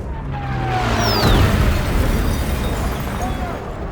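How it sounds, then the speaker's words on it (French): A heavy bombardment before amphibious landings rumbles with a deep, sustained roar that swells and lingers, thick low booms blending into continuous noise, with explosions hard enough to shatter building windows. "Les explosions résonnent violemment, faisant voler en éclats les vitres des bâtiments."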